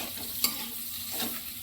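Sliced onions with a little salt and turmeric fry lightly in a pan, sizzling softly and steadily as a utensil stirs them, with one sharp scrape of metal against the pan.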